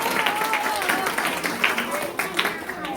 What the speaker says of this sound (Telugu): వాళ్ళకి మళ్ళీ గట్టిగా చప్పట్లు కొడతాము